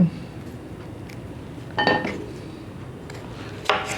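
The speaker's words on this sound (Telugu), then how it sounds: "పెద్ద ముక్కలు కూడా కట్ చేయొచ్చు" A knife chops raw tomatoes into medium pieces for a raw tomato pickle, with a few scattered knocks and clinks against a board or dish over a quiet, hissy kitchen background.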